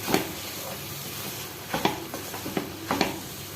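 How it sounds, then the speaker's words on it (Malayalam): Torn chapati pieces stirred in a pan for kothu chapati, with a soft sizzle underneath and several sharp scrapes and knocks of the spatula against the pan, spaced irregularly, close and moderately loud. "ഇനി ഇതിലേക്ക് ചപ്പാത്തി ഇങ്ങനെ ചെറിയ ചെറിയ പീസായിട്ട് പിച്ച് വെച്ചിരിക്കുന്നത് ഇട്ട് കൊടുക്കാം. എന്നിട്ട് നന്നായിട്ട് മിക്സ് ചെയ്യണം."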